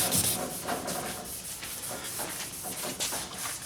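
Steady wet sanding with a flat block on the body of a 1977 Camaro Z28, a continuous close hissing rub with slight rhythmic back-and-forth swells and no talk.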